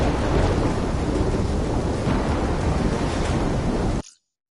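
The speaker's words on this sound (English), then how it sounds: "Incoming superstorm too strong." A violent superstorm in a Call of Duty campaign, heavy rain and rolling thunder roaring as a dense, loud, continuous wash before cutting off abruptly, with no voices.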